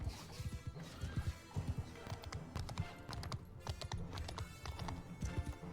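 Horses gallop in a cavalry attack in the video game Bannerlord, with dense, rapid hoofbeats drumming continuously, close and loud, mixed with battle clatter and a voice calling out.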